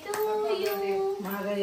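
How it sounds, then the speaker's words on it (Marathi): A few sharp hand claps ring out at a family birthday celebration for a 49th birthday at home, scattered under voices talking and calling out. "टाळ्या वाजव की, टाळ्या वाजव."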